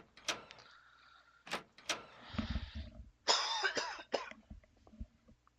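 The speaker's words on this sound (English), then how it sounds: "I would love to get rid of this cough one day" A person coughs several times in short bursts, loud and close, mixed with clicks and thumps from a horror game session, with no talking over it.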